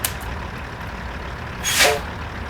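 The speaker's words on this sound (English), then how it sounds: "When I pop the air brakes." A Peterbilt 579 single-axle truck in American Truck Simulator releases its air brakes with a short, sharp hiss near the end, rising briefly over a low steady engine idle.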